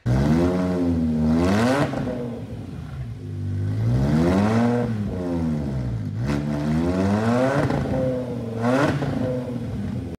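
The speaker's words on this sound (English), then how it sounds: "The exhaust wasn't on yet, so it sounded pretty mean." A BMW M5 engine revs hard and raw with no exhaust fitted, climbing and falling in three loud throttle blips, each rising to a growl before dropping back, with the car up on a lift.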